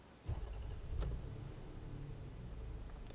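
A Toyota Camry Gracia with its 2MZ V6 is started with the ignition key: a brief starter crank, then a smooth, quiet idle that holds steady and close.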